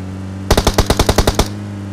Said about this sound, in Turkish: Allah birini vurdular.